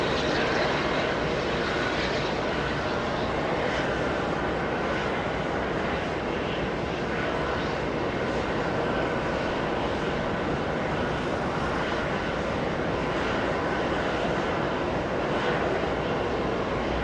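Airbus A320 jet, 17 years old and in Boston Red Sox livery, roaring past at JFK airport in New York, a loud steady engine rumble that holds for the whole stretch without fading.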